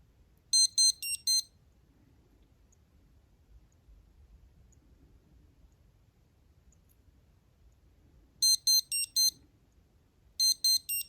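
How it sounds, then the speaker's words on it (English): Short bursts of high-pitched electronic-sounding beeping from a Mondaine Railway mechanical alarm wristwatch, a quick cluster near the start and two more clusters near the end, with quiet low rumble between. "Let's do this nice and slowly to see if we can activate that alarm"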